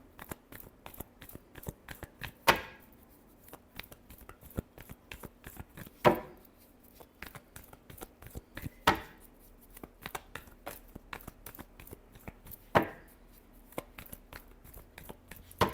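Tarot cards being shuffled by hand: light irregular flicking and riffling clicks with four sharper slaps spread over the stretch, close but quiet, no talking.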